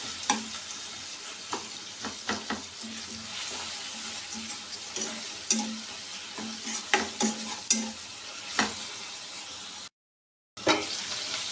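Onions and tomatoes frying in oil in a pan, a steady close sizzle broken by repeated spoon scrapes and clinks, with a brief silent gap near the end and no speech.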